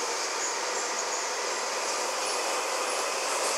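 A Minsk metro train of the 81-717 type runs between stations, producing a steady, loud, broadband rumble and rushing roar heard from inside the car with no talking.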